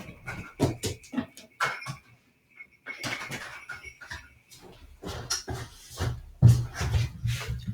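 A dog's claws click and patter irregularly across a hard floor nearby, mixed with light bumps and shuffling movements.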